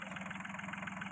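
A tractor engine idles on a family farm, a steady close-up chugging drone with an even rapid pulse and no voices.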